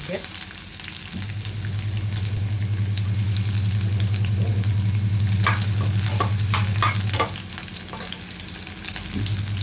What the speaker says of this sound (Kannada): ಅಲ್ಲಿ ಎಣ್ಣೆ ಇಟ್ಟಿದ್ದೀನಿ ಈರುಳ್ಳಿ ಹಾಕ್ತೀನಿ